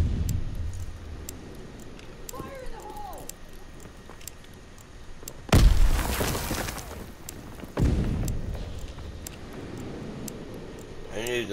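A grenade explodes in Call of Duty WWII gameplay, a loud broadband boom with a rumbling tail, followed about two seconds later by a second heavy blast, over faint game ambience.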